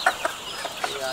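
Hens clucking in a commercial poultry layer farm in Morbi, Rajkot, with a few short clucks standing out over a busy background of many birds, fairly close.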